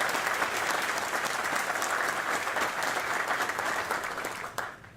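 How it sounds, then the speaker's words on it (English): An audience at an EPA event in Cleveland breaks into sustained, dense applause, clapping steadily for several seconds before tapering off. "let's give the administrator and the entire Biden-Harris administration a round of applause."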